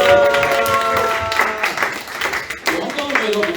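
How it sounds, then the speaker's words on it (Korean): A church congregation breaking into warm applause during a youth worship service, steady clapping filling the room alongside background music and voices. "우리 박수로"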